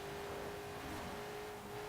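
The turbocharged V8 of a 2010 Noble M600 in Forza Horizon 4 holds a steady, droning rev with a constant whirring tone, fairly quiet and alone.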